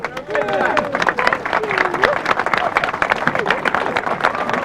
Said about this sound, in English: Congratulations, a round of applause.